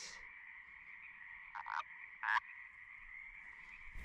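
A wild frog gives a couple of short, close croaks over a steady, buzzing insect-like drone in the background, with quiet outdoor ambience and no talking.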